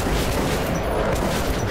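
Dense, continuous barrage of heavy gauss gun fire and booming impacts in Metro 2033 Redux, loud and sustained with no pauses.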